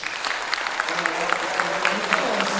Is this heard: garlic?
no